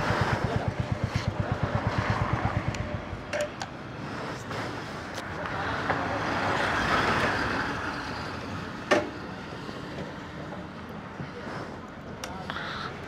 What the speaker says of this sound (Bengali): গাড়ি আসছে প্রচুর